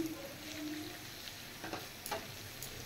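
A spice paste of cumin powder, chili powder, turmeric and salt is stir-fried for mutton keema, giving a faint, low sizzle broken by a few soft scraping stirs of the spoon in the pan.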